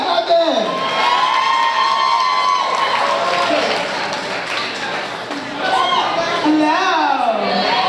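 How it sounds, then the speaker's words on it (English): An audience at a poetry show cheers, whoops and claps for a poet taking the stage, loud crowd noise with shouting voices rising and falling over nearly eight seconds. "clap your hands for the one and only, Gabby"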